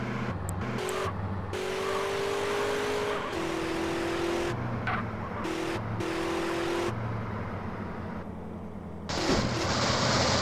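A car engine in the video game GTA San Andreas revs steadily through several gear shifts, its pitch climbing and dropping, with a louder surge of engine and road noise near the end.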